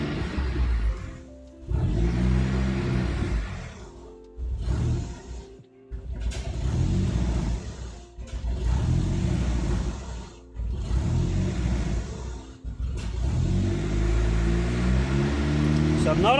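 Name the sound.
turbo-converted car engine struggling at idle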